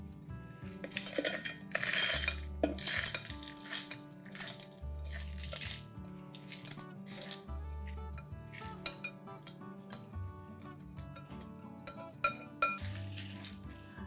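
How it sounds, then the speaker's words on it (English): Milagai Podi spice powder ingredients are mixed in a dish, with a spoon clinking and scraping against it in repeated soft knocks, set against background music. "Let's mix all of this well"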